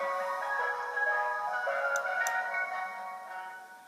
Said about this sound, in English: Ice cream cart.